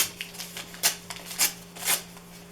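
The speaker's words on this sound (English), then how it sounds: "I'm going to rip up some more paper" Newspaper being torn by hand in a few quick rips, three louder tears standing out over soft rustling and a low steady hum.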